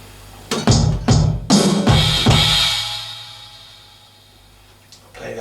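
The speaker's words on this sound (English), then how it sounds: "ends with a cymbal crash and a bass drum" Drum kit plays a short beat of punchy bass drum hits with snare-like accents, ending on a cymbal crash that rings out and fades slowly, loud and close.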